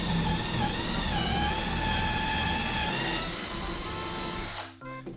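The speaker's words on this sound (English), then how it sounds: "set my jig into place, and then just drill as deep as I can." A power drill with a 4-inch bit bores a hole through a drilling jig while building game room shelves, a steady whine running several seconds before winding down abruptly at the end.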